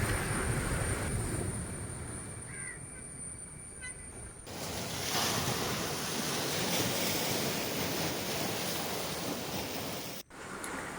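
Sea waves roll onto Cherai Beach, lined with casuarina trees, in a broad, continuous wash of surf, with wind noise buffeting the microphone and a brief dropout near the end.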